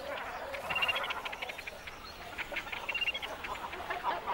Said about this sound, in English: While thousands of cormorants use dead trees for their nests.